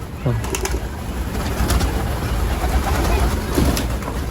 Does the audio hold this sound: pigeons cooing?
yes